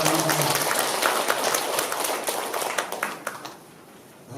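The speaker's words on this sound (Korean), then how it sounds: "우리 참부모님께 뜨거운 감사의 박수를 보내주시기 바랍니다" A church congregation applauds in thanks, a dense wash of many hands clapping at steady volume that thins and fades out over the final second.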